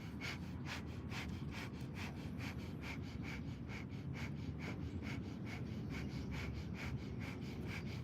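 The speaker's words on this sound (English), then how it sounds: "Take some breath of fire" Rapid rhythmic yoga breath of fire, quick forceful nasal exhales pulsing steadily at roughly two per second, close and breathy over a constant low background hum, with no talking.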